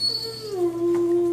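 A pet dog whines in a single drawn-out, rising then steady nasal tone lasting over a second, close by and fairly loud, with no talk over it.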